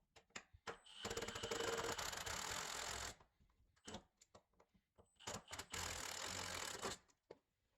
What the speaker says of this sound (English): drive a few more screws using this right angle adapter